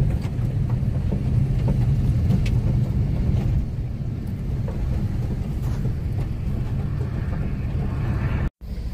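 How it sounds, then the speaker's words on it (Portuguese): Cattle truck with trailer pulling in on a farm after rain, a continuous low, rumbling engine drone with wind buffeting, steady and fairly loud throughout with a brief dropout near the end. "E lá vai entrando a primeira carreta, pessoal."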